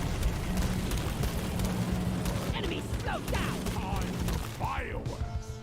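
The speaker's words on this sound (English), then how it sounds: "Fireworks!" Fireworks go off in a video game, a dense run of bursts and crackles that continues loudly throughout, with voices talking underneath.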